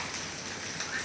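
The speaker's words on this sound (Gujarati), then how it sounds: "વરસાદ તો કઈ જોવા ધમધોકાટ ચાલુ થઈ ગયો છે" Heavy rain pours down in a steady, even hiss of dense drops, fairly faint and continuous with no voices over it.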